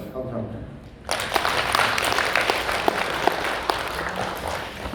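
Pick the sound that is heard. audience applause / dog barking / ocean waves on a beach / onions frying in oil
audience applause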